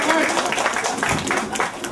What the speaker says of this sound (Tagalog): Palakpak kita. Ready? Palakpak!